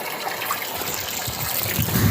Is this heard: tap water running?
yes